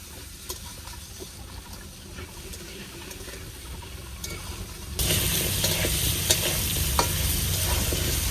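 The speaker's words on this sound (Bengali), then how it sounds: "আলুটাকে একদম লাল করে ভেজে নেব।" Potatoes sizzle steadily in hot oil in a pan, a constant crackling hiss that jumps noticeably louder partway through.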